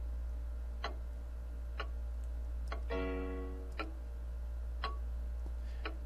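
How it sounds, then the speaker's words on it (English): A clock ticking in the horror game Fausts Alptraum, with sharp ticks spaced about a second apart over a low steady hum and a brief chiming ring partway through. "And we got a clock."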